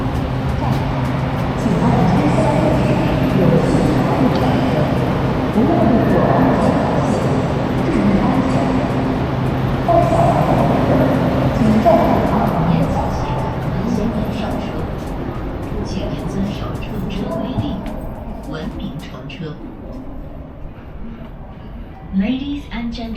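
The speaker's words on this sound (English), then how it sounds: "Yes, I'm on the train here." Inside a China Laos Railway fast train, a steady low rumble runs under the carriage while a person talks over it throughout.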